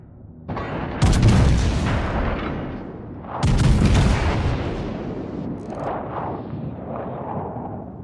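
Heavy naval gunfire from a battleship in World of Warships: Legends: two loud, booming salvos about two seconds apart, each rolling into a long rumbling tail, followed by fainter distant booms.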